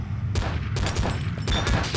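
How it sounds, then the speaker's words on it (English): Gunshots in the multiplayer game Murder: three or four sharp, spaced shots ring out over a constant, fairly quiet background rumble. "I'm shooting."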